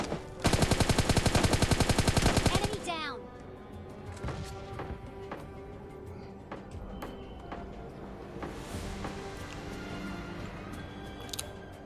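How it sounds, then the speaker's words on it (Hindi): Gunfire in the mobile battle royale game PUBG Mobile Lite: a loud, rapid automatic burst of about three seconds, then scattered single shots and game sounds farther off. "तभी मुझे गन फाइट के साउंड आए"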